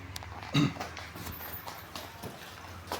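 Buffalo walking on a farm in a Punjab village, a few soft hoof thuds on the ground, one louder step standing out, under low background murmur.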